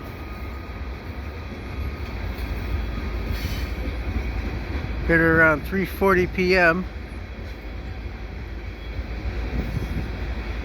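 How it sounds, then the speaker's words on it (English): A CPKC freight train of black tank cars rumbles steadily past at Dorval Ramps, with a sharp burst of high wheel squeals partway through. Someone talks over the passing cars. "oh yeah, a tank train, okay."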